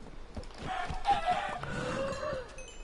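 Minecraft chickens cluck and squawk in a short run of several calls that sit close and clear over a low game background, with no talking.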